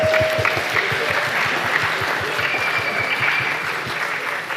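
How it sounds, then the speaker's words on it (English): An audience claps steadily after a team wins a quiz round, dense sustained applause from start to finish at close range with no voices over it. "Give yourselves a huge round of applause."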